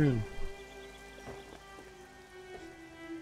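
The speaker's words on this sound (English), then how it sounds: "It was starting to rain." Rain falls in the survival video game 7 Days to Die, a soft, steady patter under sustained game tones, with a voice talking over it.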